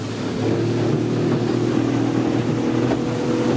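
A motorboat fitted with a hydrofoil runs at wide open throttle, its engine a loud, steady drone mixed with rushing water and wind noise, sustained throughout.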